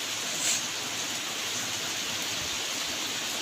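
Steady, even hiss of rain falling, continuous and fairly soft with no other sounds standing out.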